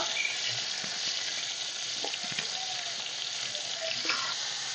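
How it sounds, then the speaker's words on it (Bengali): Broccoli fries in hot oil with a steady, loud, close sizzle that hisses evenly throughout, broken by a few faint stirring clicks, and no talk. "তেলের মধ্যে আমি বকলিগুলোকেও প্রথমে ভেজে নেবো"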